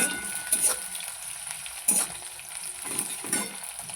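Chopped onions and four green chillies fry in hot oil until light brown, giving a steady close sizzle broken by a few sharper stirring scrapes.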